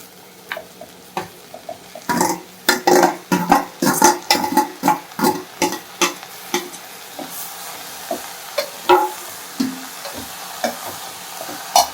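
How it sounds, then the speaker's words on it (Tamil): Onions and beetroot sautéed in a pan for a hotel-style beetroot poriyal: a steady sizzle under a run of rhythmic scraping stir strokes, loud and close, with no talking. "இப்படி வதக்கிடுங்க இப்போ பீட்ரூட்டை போடும்"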